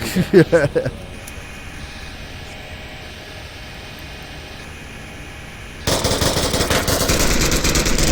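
Gunfire in the video game Onward: a short burst of rapid close shots at the start, a quieter stretch, then loud rushing noise, with a voice talking over it.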